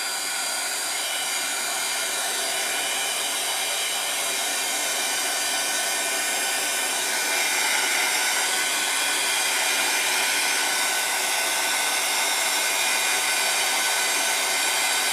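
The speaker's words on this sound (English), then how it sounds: "now let me go ahead and get my heat gun. This is going to be loud for just a second." Heat gun blowing steadily on craft foam shapes to dry them, a loud, constant close-up rushing whir with an airy hiss, unchanging for the whole stretch, alone with no talking.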